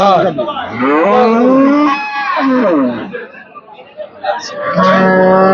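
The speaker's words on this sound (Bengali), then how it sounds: "করস একটি জাতের গাভী, 10 কেজি দুধের গাভী" Loud, drawn-out moos from a crossbred dairy cow at a cattle market sound close by, several long calls in a row, with people chattering faintly in the background.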